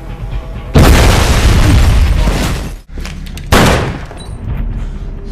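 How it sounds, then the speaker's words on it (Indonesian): House blowing up from a sabotaged gas pipe in a war film: a sudden heavy blast followed by sustained rumbling, a brief drop, then a second loud burst that fades into lingering debris noise. "ia meledakkan rumah dengan merusak pipa gas di dalamnya"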